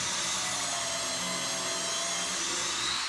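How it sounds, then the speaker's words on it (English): A corded drill whines steadily and continuously at a fairly low level, a constant motor drone with no pauses or speech. "I'm using the corded drill to do my drilling"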